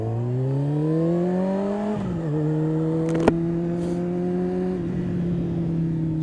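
A motorcycle ride, with the engine holding a steady droning hum that climbs in pitch, drops at a shift near the middle, then settles into a constant cruise tone, close and alone without speech.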